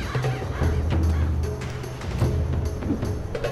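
Crows caw repeatedly in the video game Mark of the Ninja, several harsh, fairly loud calls in irregular bursts over a low ambient game background, with no speech.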